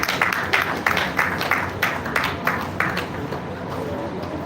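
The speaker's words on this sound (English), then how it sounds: "Please join me with a round of applause as I welcome Professor J.U. Ogbonna to take the microphone." An audience claps in a brisk, scattered round of applause to welcome Professor J.U. Ogbonna, moderately near, fading toward the end.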